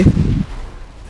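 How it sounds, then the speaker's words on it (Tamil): A grenade blows up under a car's wheel in GTA V, one short booming blast that decays quickly, with no voices. "வீலுக்கு அடியில் இருக்குது கைஸ் கிரெனேடு."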